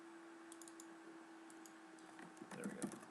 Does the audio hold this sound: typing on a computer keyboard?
yes